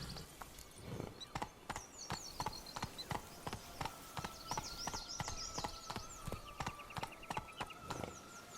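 A horse's hooves clip-clop at a steady walking rhythm in The Witcher 3, with crisp, evenly spaced knocks over several seconds, some faint whinnies and bird chirps in the background.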